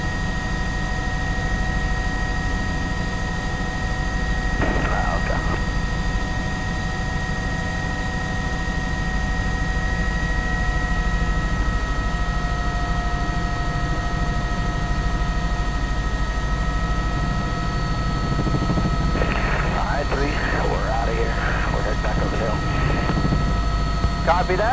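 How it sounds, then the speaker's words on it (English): A CHP police aircraft drones overhead with a continuous, steady engine hum that lasts the whole stretch. Brief radio voices break in near the start and again near the end. "it's the airplane for CHP above us."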